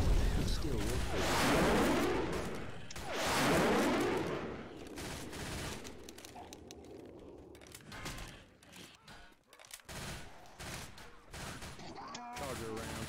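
Machine guns fire in Left 4 Dead 2 as rapid bursts and sustained fusillades mixed with loud swelling game effects, fading to scattered shots and mechanical clatter while players talk.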